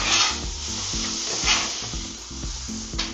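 Steak marinated in lime juice sizzles loudly and steadily on a hot Blackstone griddle, a constant frying hiss with scraping spatula strokes and rhythmic tapping layered over it.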